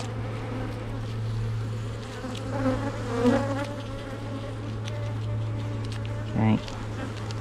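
Honey bees buzz steadily around an open hive during an inspection, a continuous close hum with occasional louder passes, while a person speaks briefly over it.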